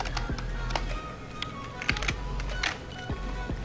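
Quick typing on a computer keyboard, with sharp, irregular key clicks and taps coming close and fairly loud over a low steady hum, and no talking.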